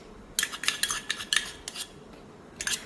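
Metal spatula scraping and clinking against a pan as chicken with garlic and chili is stir-fried over low to medium heat for Thai holy basil stir fry; a series of sharp, bright scrapes in irregular bursts, close and fairly quiet, no talking.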